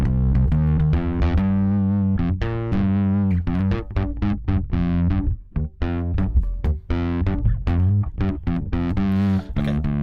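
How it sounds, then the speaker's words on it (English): Heavy bass notes through amp drive distortion played in a steady run, gritty and saturated, loud and continuous with brief gaps between phrases. "Okay, we can hear some distortion there."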